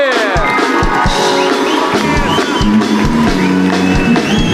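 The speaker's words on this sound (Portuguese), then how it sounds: "Quero uma salva de palmas para Celso Portiolli!" A studio audience applauds Celso Portiolli with steady, loud clapping, backed by rhythmic low thumps like music or drum beats and excited vocal sounds throughout.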